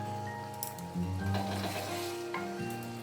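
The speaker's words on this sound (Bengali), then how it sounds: "এবার পোস্ত বাটা দিচ্ছি" Poppy seed paste sizzling as it hits hot oil in a pan while cooking coconut prawns, a steady close frying hiss with a louder burst as the paste lands and a faint clink of utensils.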